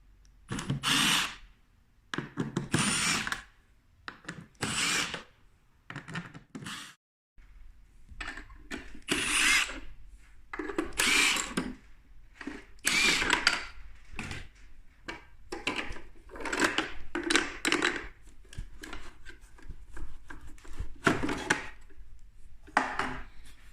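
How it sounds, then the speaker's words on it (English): An impact driver fitted with a Torx bit removes the cover bolts of a DeWalt planer in a long series of loud, close, buzzing bursts separated by brief pauses, with a longer gap partway through. "The first step is put a Torx bit on your impact driver."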